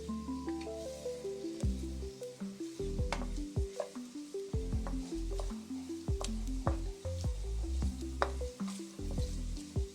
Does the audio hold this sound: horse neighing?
no